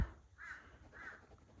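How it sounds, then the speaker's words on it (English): A crow perched outside a window gives two distinct caws about half a second apart, faint and somewhat distant over a quiet background hum. "there is like a crow right outside my window, and it will not shut up."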